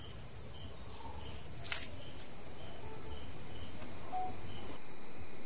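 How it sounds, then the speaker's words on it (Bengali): Crickets chirp steadily on a hill temple trail during a trek, a continuous high-pitched trilling drone that fills the quiet surroundings with no talk. "ঝিঝি পোকা ডাকছে, দেখো।"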